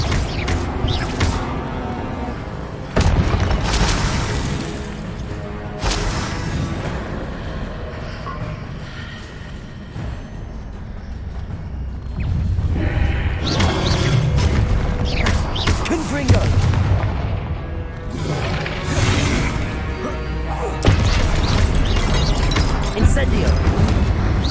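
Confringo spell blasts in the PS5 game Hogwarts Legacy, a string of loud booming explosions and crackling impacts over a continuous rumbling background, several sharp bursts spaced a few seconds apart.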